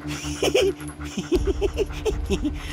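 A dog inside a car whimpers in a run of short, high, wavering whines and yips, close by, with a low engine-like rumble underneath and some muffled movement.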